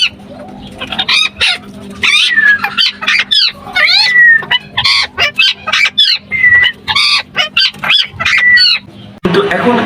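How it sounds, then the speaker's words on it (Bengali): Indian ringneck parakeets, talking parrots kept for breeding, give loud, harsh squawks and screeching calls close by, repeated in rapid overlapping bursts almost without pause. "আমি সংগ্রহ করি আমার ফ্রেন্ডের কাছ থেকে ইন্ডিয়ান রিংনেক কথা বলা টিয়া পাখি"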